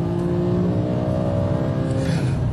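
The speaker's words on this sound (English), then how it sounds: "Perfect time to start experimenting with the 5-litre V10 engine" A BMW E60 M5 with its 5-litre V10 engine revving, a strong, tonal mechanical growl that holds steady and then rises in pitch near the end, close and loud.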